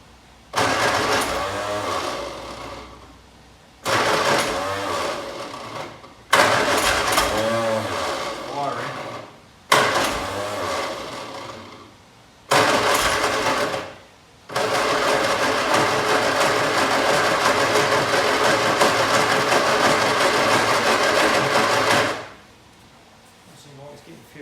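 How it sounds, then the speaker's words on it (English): A long-idle MG Midget engine, unstarted for 29 years, cranking on the starter in several loud bursts of a few seconds each, then one long sustained crank of about eight seconds before stopping; brief voices between attempts. "We're going to just check, see if it is getting fuel, and then come back and give that another crank."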